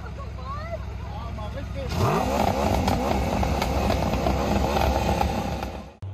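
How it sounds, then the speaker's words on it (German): A motorcycle engine idles with a low chugging beat, then bursts into a loud, sustained roar as it is revved hard at an outdoor children's event, with voices and crowd noise around it. "mal auf einem Motorrad zu sitzen, welches dann auch noch richtig losröhrte"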